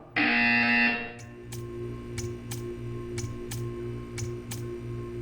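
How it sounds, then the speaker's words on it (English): A loud burst of harsh electronic tone opens the scene in Portal 2's test chamber, then gives way to a series of short, sharp clicks or ticks spaced about half a second apart over a low steady hum. "You will hear a buzzer."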